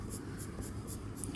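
A sharp 4B pencil scratches quick cross-hatching strokes on paper, five or six short rhythmic scrapes in a row, close and clear with no talking.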